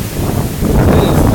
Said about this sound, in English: Look how windy this is.